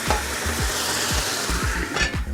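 Welsh cockles and wine going into a smoking hot pan, erupting in a loud, steady sizzle with repeated clattering thuds as the shells land and shift.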